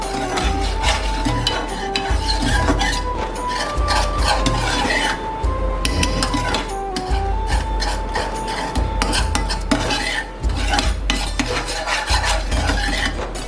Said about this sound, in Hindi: लेकिन मुसलसल कंटिन्यू हमने चम्मच हिलाते जाना।